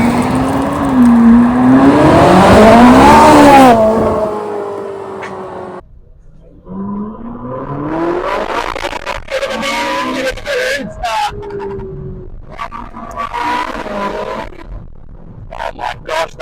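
A Ferrari 458's naturally aspirated engine revs hard toward 9,000 RPM, its pitch climbing and falling in loud sweeps. It then settles into further rising gear pulls heard from the cabin, with a voice briefly audible over it.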